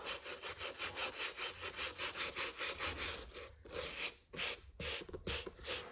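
A brush scrubs the suede midsoles of New Balance shoes in quick rhythmic back-and-forth strokes, close and steady, slowing near the end with a few short pauses.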